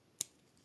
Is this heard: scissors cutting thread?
yes